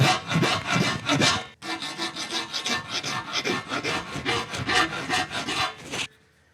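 A metal file rasping on a disc brake mount on an old bicycle frame, close and loud: a continuous run of rhythmic back-and-forth strokes that stops abruptly near the end, with no speech.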